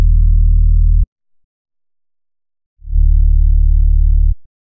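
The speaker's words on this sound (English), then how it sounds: "The sub is simple, it's playing the same MIDI and it sounds like this." Sub bass synth, a sub at -2 with a filtered saw above it, playing the same MIDI line as the lead: two loud, deep sustained notes separated by a silent gap, heard alone.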